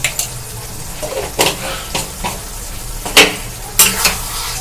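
Whole cumin seeds hitting a pan of frying masala for a restaurant-style fish roe fritter curry, giving sharp sizzling bursts along with a few stirring and utensil scrapes close by.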